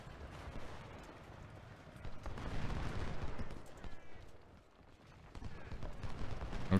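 Civil War musket fire in Ultimate General: Civil War at the Battle of Gettysburg: a muffled, rolling crackle of many rifles rises and falls at a distance, with rumbling battle noise throughout.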